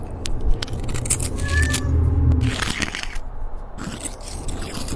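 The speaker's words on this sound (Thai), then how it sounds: "เขาจะได้ยินเสียงแมวร้อง" A cat meows a few times amid scratchy nails scraping on a wall, moderately close, with a steady low background rumble.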